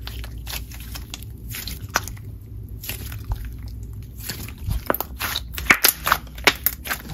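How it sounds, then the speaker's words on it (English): Thick, chewy cotton-candy-scented slime is squeezed and kneaded up close, giving wet squelches and a run of quick popping bubble clicks that grow denser toward the end. "It is a super thick chewy slime that makes really nice bubble pops"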